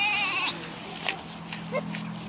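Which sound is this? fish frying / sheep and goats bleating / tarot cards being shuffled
sheep and goats bleating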